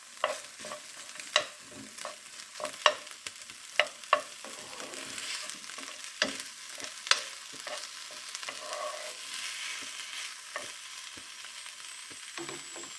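Tomatoes and pumpkin pieces sizzle softly in a pan, with steady frying hiss and repeated sharp clinks and scrapes of stirring up close, for a traditional gongura pumpkin pulusu.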